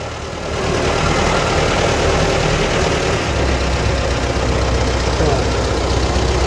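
A T-40AM tractor fitted with a front loader runs with a loud, steady, close diesel rumble that revs up after the first second and holds, with a voice speaking briefly over the engine.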